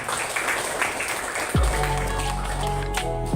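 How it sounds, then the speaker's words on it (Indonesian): Students applaud a classmate named Elsa in a classroom, a crowd of close claps running throughout, with a sustained tone and other classroom noise entering midway. "Ya, beri tepuk tangan untuk Mbak Elsa."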